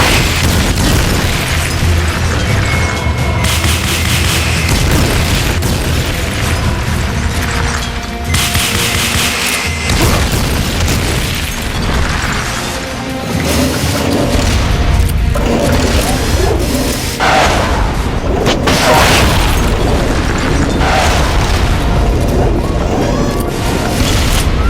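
Rocket launcher fire and explosions in Metal Gear Solid: Peace Walker: a dense, continuous barrage of booms and blasts over the full length, with a steady loud rumble and a busy game soundtrack mixed in.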